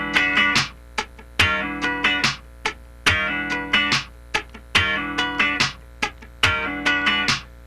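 Funk rhythm guitar plays a sliding 9th chord figure while the picking hand scratches muted strings throughout, filling the gaps between bright chord stabs with a busy choppy sixteenth-note groove repeated in even phrases, no voices.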